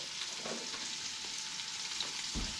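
Pieces of fish brown in a small cast iron skillet with a steady, close sizzling hiss and faint stirring scrapes throughout.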